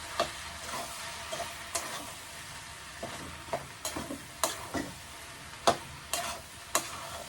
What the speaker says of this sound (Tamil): இதுக்குள்ள சொராவை சேர்த்துட்டு நல்லா மிக்ஸ் பண்ணி விடணும்